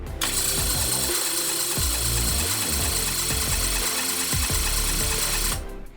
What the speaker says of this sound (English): all we're going to do is turn the starter over and see if we can get any fuel up here